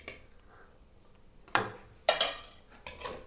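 Spoon clinks and scrapes against a metal pot as pepper and fennel powder are added to mutton soup, with three or four sharp, fairly loud knocks after a quiet start.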